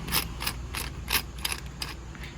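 Lock nut being tightened onto a brushcutter trimmer head, a series of about eight sharp ratcheting clicks at a steady, slightly uneven pace, close and fairly loud with no talk.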